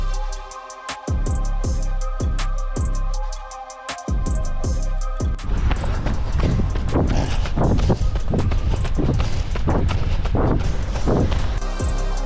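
A headwind blows against the microphone during a long marathon training run. A few seconds of rhythmic footfalls give way to loud, gusty buffeting rumble that fills the rest of the clip, with no talking.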